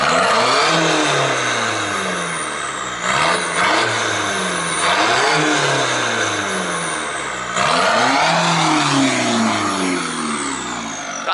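A loud diesel car engine revs repeatedly, rising and falling in pitch through several throaty surges, close by and continuous.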